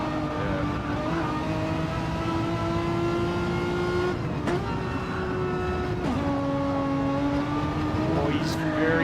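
Race car engine drones continuously through the Laguna Seca corkscrew in a racing video game, its pitch dipping under braking and climbing again as it accelerates, with a commentator talking over it throughout.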